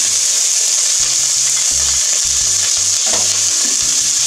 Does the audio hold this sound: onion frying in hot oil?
yes